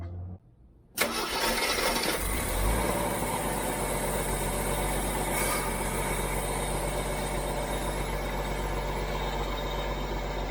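A Jeep CJ-7 engine is started nearby after a quiet moment, firing up abruptly and then settling into a loud, steady idle that runs uninterrupted to the end.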